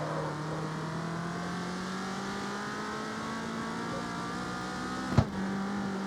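A steady, buzzing engine drone from a Gymkhana car build in CarX Street rises slowly in pitch at a constant high rev, with a brief sharp knock near the end.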